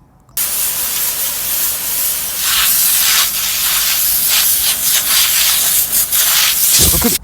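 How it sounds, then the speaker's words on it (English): A steady, loud spraying hiss of water from a hose blasting mold off a surface, continuous for several seconds, ending abruptly. "Let me just spray this shit down with a fucking water hose"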